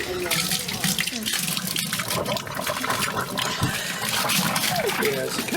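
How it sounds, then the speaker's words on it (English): Spring water gurgles and splashes continuously at a natural spring source, bubbling close by, while a person talks over the running water. "That's why this one kind of gurgles"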